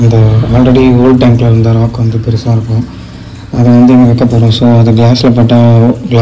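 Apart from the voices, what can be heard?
No distinct noise like a dog, phone or traffic.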